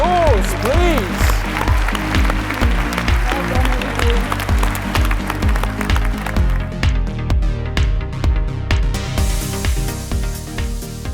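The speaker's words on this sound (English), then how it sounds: "Round of applause, please." Steady applause continues throughout, mixed with music playing and a voice speaking in the background.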